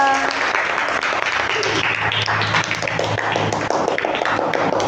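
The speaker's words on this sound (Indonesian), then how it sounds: "Beri tepuk tangan untuk kelompok 2." A classroom of primary school children claps for a group's science presentation, a steady, loud wash of dense applause lasting throughout.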